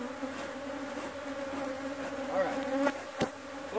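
Honey bees buzzing steadily around a hive, with individual insects droning close by and passing, plus a couple of sharp bumps and rustles.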